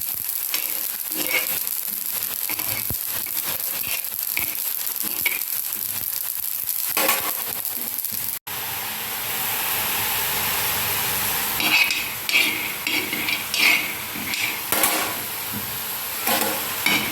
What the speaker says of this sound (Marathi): शेंगदाणे पण भाजून घेतली खोबरं पण भाजून घेतलं थोडंसं तेल टाकून